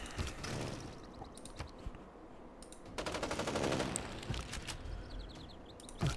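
A machine gun unit firing in Civilization 6, with rattling bursts of rapid fire rising and falling, the loudest burst in the middle, sounding moderately distant.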